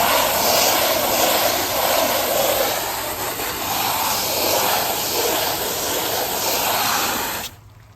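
A pressure washer sprays a steady, loud, close hissing rinse to wash off an oxidation remover. The spray runs unbroken for several seconds, then cuts off abruptly at the end.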